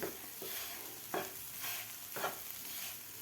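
A spatula stirs and breaks up egg bhurji in a frying pan, with several soft scraping strokes over a steady close sizzle and no talking.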